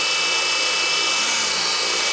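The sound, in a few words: remote-control helicopter running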